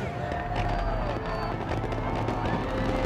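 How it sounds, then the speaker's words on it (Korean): Distant New Year's fireworks over Copacabana, Rio de Janeiro, pop and crackle in an irregular stream beneath a dense, roaring crowd din. "새해의 시작을 알리며 화려한 불꽃이 코파카바나의 밤하늘을 수놓는다."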